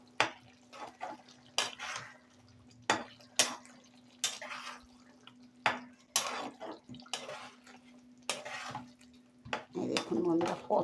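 A spoon stirs garam masala into egg curry in a pan, producing a series of distinct metallic clanks and scrapes at an irregular pace, with quieter wet stirring between the hits.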